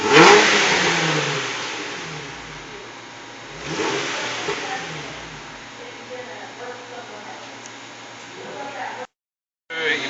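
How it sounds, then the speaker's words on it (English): A car engine is revved in snaps of the throttle during an emissions smoke check at the exhaust. It surges loudly and close at the start, rises again briefly near the middle, then settles into a steady idle that cuts out near the end. "I'm going to snap the throttle between 2 and 3"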